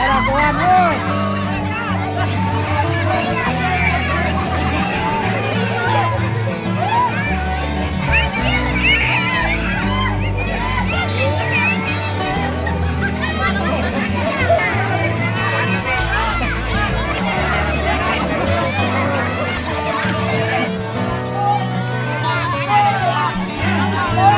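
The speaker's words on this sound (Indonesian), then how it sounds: "Suasana riuh, kerap terdengar canda tawa. Ketika ikan ditangkap, sorak-sorai warga pecah." Lively village crowd during a hand-catching catfish tradition: continuous dense chatter, children's shouts and laughter, and scattered cheering, loud and close throughout.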